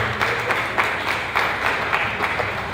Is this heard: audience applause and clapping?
yes